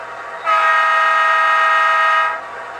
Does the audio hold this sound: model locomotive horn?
yes